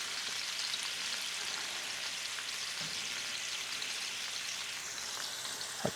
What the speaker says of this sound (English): we're just gonna sear that for about like a minute